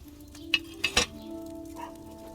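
A pot set down during alchemy crafting in a video game, a few sharp metallic clinks in quick succession over a steady tonal hum.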